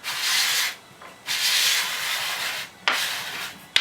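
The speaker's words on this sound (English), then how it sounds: "And when I scrape over the surface," Rough, broad scraping strokes of a scraper dragged across a wood veneer surface, three long passes with brief pauses between, close and fairly loud.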